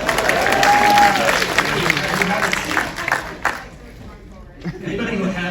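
Audience applause and cheering at a Stranger Things Q&A swell at first, then thin out and fade into scattered claps and murmuring.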